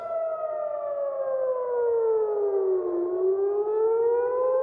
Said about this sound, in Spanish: Las sirenas volvieron a resonar en Jerusalén y Tel Aviv